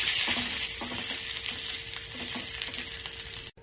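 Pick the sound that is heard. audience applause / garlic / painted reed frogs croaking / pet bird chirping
garlic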